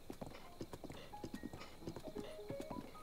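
A horse's hooves clip-clop in The Legend of Zelda: Breath of the Wild, a quiet, steady walking rhythm of distinct hoofbeats with faint tonal game sounds behind them.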